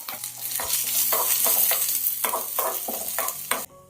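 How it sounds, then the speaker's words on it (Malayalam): Coconut pieces, cashews and raisins fry in ghee for an Onam banana payasam, with a steady close sizzle and rhythmic scraping stirs about every half second. "കുറച്ച് നെയ്യ് ഒഴിച്ചു കൊടുക്കാം ഇനി കുറച്ച് തേങ്ങാക്കൊത്തും അണ്ടിപ്പരിപ്പ് മുന്തിരിയും കൂടെ ഒന്ന് മൂപ്പിച്ചെടുക്കാം"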